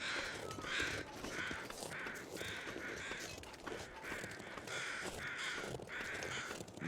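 Several crows caw repeatedly in loose bursts in the video game The Long Dark, fairly close and loud, over a steady ambient background with no talking.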